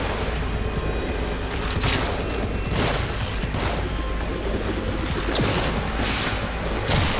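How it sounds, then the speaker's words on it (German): Dense gunfire in The Evil Within, with rapid overlapping shots and crashing impacts in a sustained loud barrage throughout. "Deckung, sie schießen."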